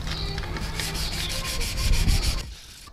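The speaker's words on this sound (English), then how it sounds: "So, one last sand down." Sandpaper rubbed back and forth over the base coat on a window sill, a close, loud, steady rasping that fades out at the end, with no voices.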